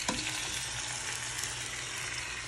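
Seasoned ground turkey for chili hits a hot pan with a loud, close, continuous sizzle and crackle that holds steady throughout, with no talk.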